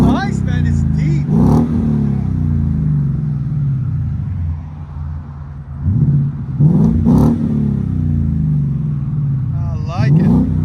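A 2022 Ford Mustang GT 5.0 with a straight-pipe exhaust revs in repeated deep bursts over a steady low idle rumble, loud and close, with a voice talking through it.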